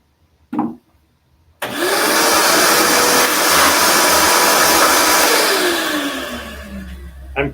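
A wood router cuts a cutting board along a template, a loud, steady high-pitched whine lasting several seconds before spinning down. A short knock comes just before it starts.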